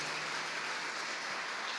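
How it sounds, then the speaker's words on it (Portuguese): A church congregation claps together in a short burst of steady, dense applause that fills the whole moment at an even level. "Vamos dar uma salva de palmas pela vida dele."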